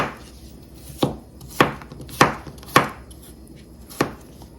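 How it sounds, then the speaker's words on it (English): Ultra sharp knife slicing food on a cutting board for Filipino chicken tinola soup, five crisp, evenly spaced chops close up, with no talking. "I need to slice this into like this size, kind of like that"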